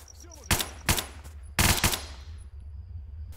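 A Heckler & Koch gun fired in Stalker: Call of Pripyat, a few loud close bursts of rapid automatic shots, each ringing out with a decaying echo over quiet ambience.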